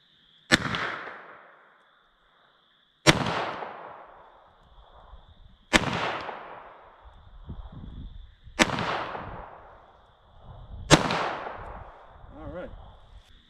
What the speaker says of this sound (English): from a distance of 25 yards, 38 Short Colt, see what we get